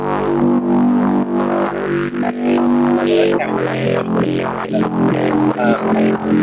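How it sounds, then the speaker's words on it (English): A gritty, distorted synth bass in Ableton Live drones continuously with a thick mid-range buzz, loud and steady, with no talking. "And then distortion, and so that's the main like mid bass sound."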